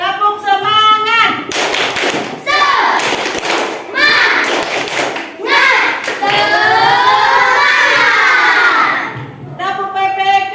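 Children in an elementary classroom perform the tepuk semangat clapping chant: rhythmic claps and thumps mixed with chanted voices, loud and close, in bursts that build into a sustained group shout.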